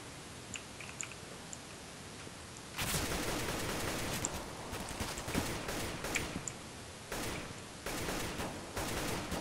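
Gunfire in Counter-Strike: Global Offensive, heard as clustered bursts of shots in two dense stretches over a noisy background, fairly close and loud, with no speech.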